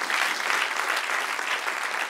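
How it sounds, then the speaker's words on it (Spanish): Congregation applause during a church sermon, a sustained dense clapping from a large crowd, steady and fairly loud with no pauses. "Den un aplauso al que reina."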